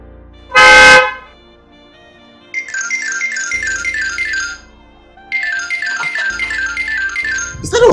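A phone rings loudly and close in repeated electronic trill bursts, two long ringtone phrases separated by a short pause, with a loud thud-like burst just before and another at the end.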